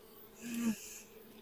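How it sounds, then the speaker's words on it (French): Bees in a hive give a brief buzzing hum that swells to a peak midway and then fades, close by and with no voices. "Voilà, c'est bourdonneux."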